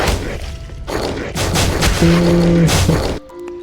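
Gunfire in the Erebound video game demo, a string of dense booming shots and impacts mixed with game music and effects, loud and continuous before dropping off near the end.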